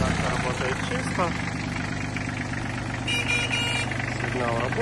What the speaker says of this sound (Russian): Сигнал работает у нас.